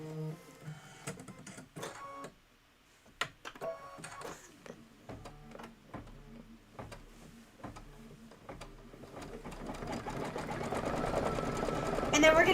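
A Kimberbell embroidery sewing machine stitches a design in rapid mechanical ticking and whirring, rising steadily louder toward the end, with the steady hum close by.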